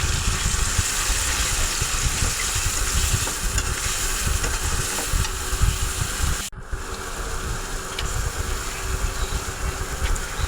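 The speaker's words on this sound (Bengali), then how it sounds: "এর ভিতরে আমি মাংসটা দিয়ে দিলাম।" Beef meat added to spiced masala in a pan, a dense continuous sizzle and hiss with low rumbling, briefly cut off by a sharp break partway before resuming steadily.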